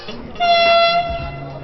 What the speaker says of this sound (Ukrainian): Ось він, той самий швидкісний поїзд з полученням Київ-Одеса